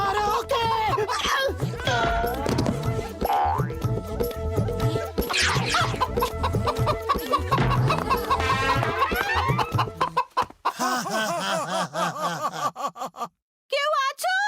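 A cartoon chicken clucks repeatedly amid busy music, crashes and animated voices, loud and crowded throughout, the sound cutting briefly near the end.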